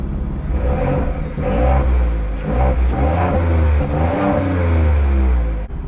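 A 2021 Ford F-150 Tremor pickup's 3.5 engine revs through its performance exhaust with a deep, throaty growl, loud and close, rising and falling in pitch.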